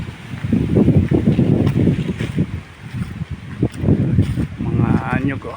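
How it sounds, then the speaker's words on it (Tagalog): Strong wind gusts buffet the microphone outdoors in a rural coastal setting, loud rumbling bursts in uneven pulses, with a voice talking over parts of it. "Lakas ang hangin."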